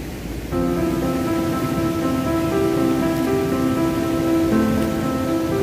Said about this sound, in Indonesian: ini air terjunnya, air yang berasal dari air terjun